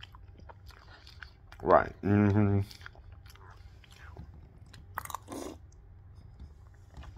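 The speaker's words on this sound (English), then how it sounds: "Now I eat cereal," Crunchy breakfast cereal being chewed up close: one short crunching burst followed by a longer, dense run of crisp bites, with someone talking around them.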